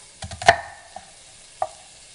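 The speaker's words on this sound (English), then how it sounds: "we're just gonna cut it, and I don't want too big of pieces of onion." Knife chopping an onion into small pieces on a cutting board, a few sharp close taps with a louder central strike and a lighter cut afterward, no talking.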